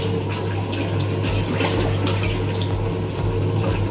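An 11 kg HotStar washing machine drum turning with water inside, giving a steady sloshing and swirling over a constant low motor hum, close up and without talk.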